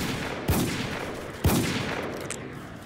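Two sharp revolver shots ring out in a video game, about a second apart, each a loud crack with a short echoing tail over steady background noise.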